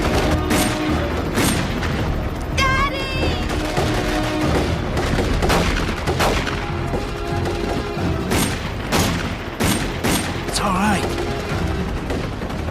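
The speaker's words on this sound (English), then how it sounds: "Taking ground fire! Fire at will." Heavy gunfire in a film battle scene at a compound, with dense bursts of shots and booming impacts throughout, loud and chaotic, while voices shout over the fighting.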